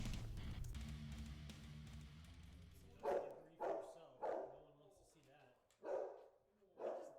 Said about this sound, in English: there were some dogs barking